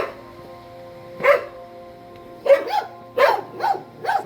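Several dogs in a mountain town in the Philippines bark loudly and close by in uneven bursts, a single bark followed by clustered double and triple barks, with no talk over them.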